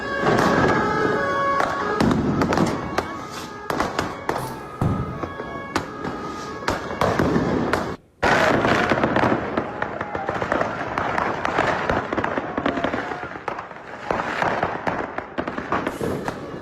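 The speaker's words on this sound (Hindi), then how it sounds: "हर तरफ जश्न का माहौल और जश्न के माहौल के बीच हो रही आतिशबाजी" New Year celebration fireworks and firecrackers on the streets, a dense, continuous barrage of sharp pops and bangs at varying distances, with background voices mixed in.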